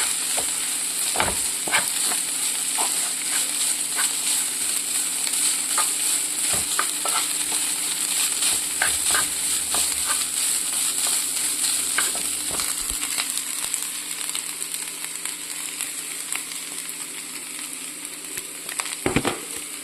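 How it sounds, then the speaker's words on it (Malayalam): Onion flower stalks and grated coconut stir-fried in a pan give a steady, close sizzle with scattered crackles and occasional scrapes of a stirring spoon, continuing throughout without talk. "നമുക്ക് തേങ്ങയും കൂടി ഇട്ടൊന്ന് വഴറ്റാമേ."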